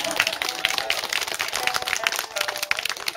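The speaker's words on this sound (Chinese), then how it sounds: "来，我们给他一个热烈掌声" An audience at a school class reunion gathering breaks into a dense, steady round of clapping that holds throughout, close and fairly loud.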